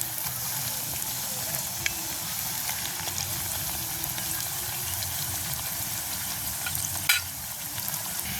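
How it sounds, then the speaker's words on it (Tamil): Homemade beetroot puris deep-frying in hot oil give off a steady, close sizzle with fine crackling bubbles throughout and a brief sharper pop near the end; no one speaks. "நாங்கள் இப்படியே இவ்வளோ பூரியையும் சுட்டெடுப்போம்"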